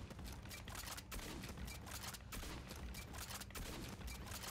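Rapid repeated firing of the M12 RPG launcher in Aliens: Fireteam Elite, a dense continuous barrage of blasts with periodic stronger thumps about once a second, heard without speech.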